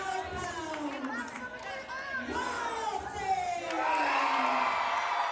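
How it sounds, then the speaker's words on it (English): A crowd in a Denham Springs gym cheers and whoops for a cage match, a steady roar that swells louder toward the end, with an announcer's voice over it. "Listen to the ovation."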